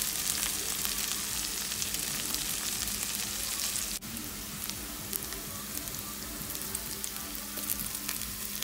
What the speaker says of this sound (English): Then sauté the garlic until it's slightly brown. Add the onions. And then cook the onions for a few minutes.